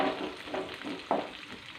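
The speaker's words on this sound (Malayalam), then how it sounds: "ഇത് എണ്ണയിൽ കിടന്ന് നന്നായിട്ടൊന്ന് വഴന്നു വരട്ടെ." Onions, green chilies and curry leaves sauté in oil with a quiet, brief sizzle, pulsing slightly as they are stirred.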